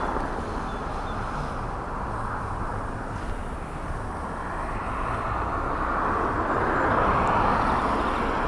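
An airliner lands on runway 16 at Dublin Airport in gusty crosswind, a steady, broad jet roar that holds throughout and swells slightly toward the end.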